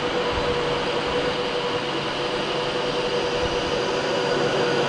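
A Pendolino train pulling into Milton Keynes Central station, a steady broad rumble and hiss of the approaching train with a faint sustained tone, fairly loud and continuous, with no voices.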